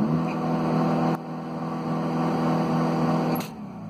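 A diesel engine in a Chrysler Grand Voyager 2.8 CRD van with rev limiting runs at a steady high rev with a droning hum, dipping slightly partway through, then easing off near the end.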